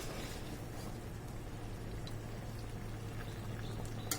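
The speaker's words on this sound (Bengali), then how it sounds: "আমাদের লাউটি এখন বলক চলে আসছে। এখন আমরা এটাকে একটু নাড়াচাড়া করে দিব।" Bottle gourd curry with shrimp boils in a pot on the stove, giving a soft, steady bubbling and gurgling with faint stirring clinks, quiet and without speech.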